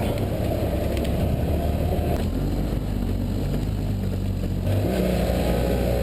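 BMW F800GS motorcycle engine in first gear on a downhill off-road trail, a steady low rumble with shifting pitch as the revs change, constant and close with wind, no voices.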